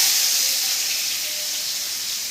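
Onions dropped into hot oil in a home kitchen, a loud, steady bright sizzle and hiss throughout, slowly settling slightly, with no talk.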